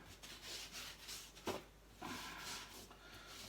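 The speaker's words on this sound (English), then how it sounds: "let's rub some more lint down into the carpet" Hand rubbing lint down into a household rug, a soft dry scuffing and brushing that comes in several close, quiet strokes with short pauses between them.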